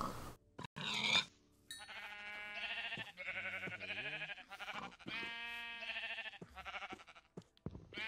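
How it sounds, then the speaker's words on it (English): Repeated sheep bleats from Minecraft, a string of wavering electronic-sounding baas one after another over about eight seconds, loud and close, with a brief thump or hit near the start. "Let's go ahead and kill these sheep now"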